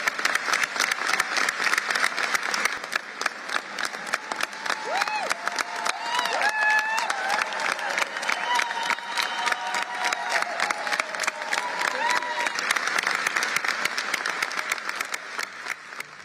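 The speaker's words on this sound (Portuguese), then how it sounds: "Marina foi aplaudida de pé por mais de 3 minutos durante o discurso." A COP30 climate-conference audience gives a standing ovation to a speech: dense, sustained clapping fills the whole stretch, with scattered voices and cheers rising through the crowd noise.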